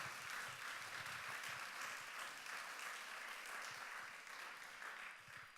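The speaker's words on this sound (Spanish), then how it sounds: "Déselo fuerte ese aplauso al Señor." Congregation applauding during a church service, a dense steady wash of many hands clapping together, continuous and fairly distant, holding at an even level throughout.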